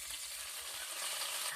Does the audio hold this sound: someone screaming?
no